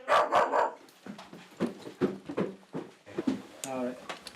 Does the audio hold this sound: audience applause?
no